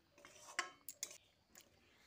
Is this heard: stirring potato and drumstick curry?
yes